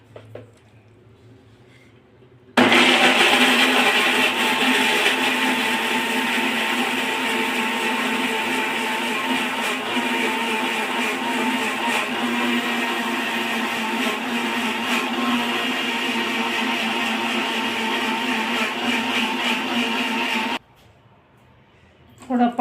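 A kitchen mixer grinds amla, carrot, beetroot and apple with water for juice, a loud steady whirring motor running for about eighteen seconds between quiet pauses at either end.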